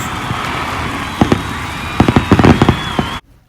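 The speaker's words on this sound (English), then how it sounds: "Fireworks, please." Fireworks pop and crackle in a burst of sharp, closely spaced bangs over a steady hiss, ending abruptly in near silence, celebrating a Colorado Buffaloes touchdown.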